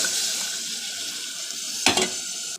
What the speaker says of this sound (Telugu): ఇప్పుడు ఈ బఠానీ వేసేద్దాం బఠానీ వేసేస్తున్నానండి